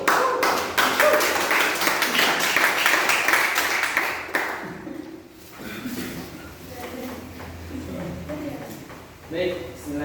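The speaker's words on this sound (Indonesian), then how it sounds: "Aplaus dulu untuk kelompok 1." A classroom group in a presentation session claps for the first group: a few seconds of dense applause that tapers off, followed by people talking.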